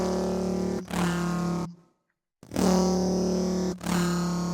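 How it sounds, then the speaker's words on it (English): A Serum synth tone passes through Ableton's Erosion effect set to white noise, a loud, buzzy, distorted sustained sound with an airy edge. It is heard in two long blocks separated by a short silence. "I've essentially got it on white noise just to give it that sort of air and that sort of like buzz"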